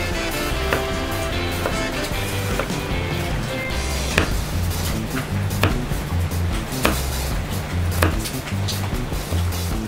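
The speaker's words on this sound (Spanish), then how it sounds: "picamos el ajo, lo más delgadito que pueda" Garlic is chopped very finely with a knife while preparing flat iron steak. Quick, steady chops tap out a rhythm throughout, with background music underneath.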